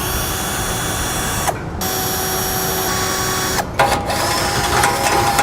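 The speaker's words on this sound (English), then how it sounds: "We're going to drill these out to a 1/2 inch." A power drill whines steadily as it bores a half-inch hole through metal on a 2016 Mini Countryman, pausing briefly twice before grinding on, close and loud.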